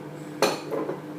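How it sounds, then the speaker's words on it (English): Cherry tomatoes roll off a plate, giving a brief sharp clink and clatter against crockery, followed by a fainter knock, close and quiet. "Then you got some cherry tomatoes, rolling off the plate."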